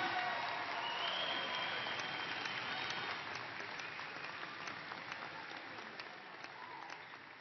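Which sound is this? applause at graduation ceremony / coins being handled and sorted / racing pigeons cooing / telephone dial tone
applause at graduation ceremony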